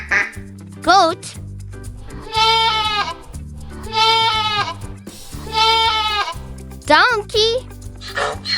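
Goat bleating, three long quavering cries spaced a couple of seconds apart, loud and near, set against a continuous bouncy backing tune with short chirpy sounds at the start and end.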